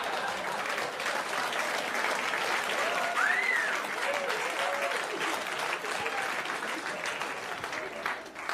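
A stand-up comedy audience applauds in a steady, even wash of clapping that goes on for several seconds and fades slightly at the end, with a faint background voice.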